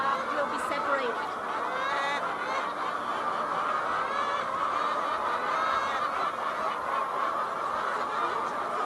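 Chickens on a Taiwanese farm cluck and chatter continuously in a dense, busy chorus of overlapping calls at close to mid distance, with no one speaking.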